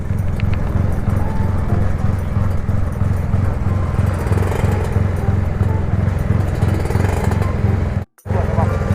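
A motorbike cruising along a road, its engine a steady, loud, close drone with a throbbing pulse and wind rush, cutting out briefly near the end before resuming.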